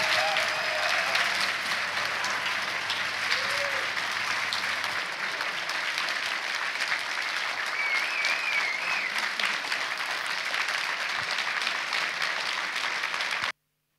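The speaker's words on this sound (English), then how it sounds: "Thanks for the applause, guys." Opening a tech conference keynote at the T3CON14 anniversary, a large audience claps long and steadily, a dense, even wash of applause with occasional whoops, ending abruptly.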